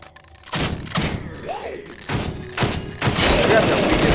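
Shotgun blasts in the video game Deadly 30, a handful of loud, sharp booms spaced roughly half a second to a second apart, with faint game sounds and some talk in between.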